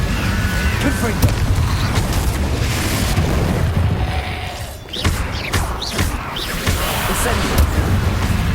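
Confringo explosive spell cast in Hogwarts Legacy, a burst of booming, thudding blasts over continuous dense game noise, with a brief dip before more bursts follow.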